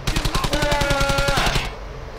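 Rapid bursts of automatic gunfire from Brothers in Arms: Hell's Highway, a World War II shooter, rattling loudly in a dense, repeated rhythm for over a second before cutting off abruptly.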